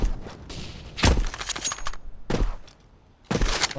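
Flashbang grenades and gunfire in CS:GO, with several sharp, loud bursts separated by short quieter gaps, each crack trailing into brief noisy decay.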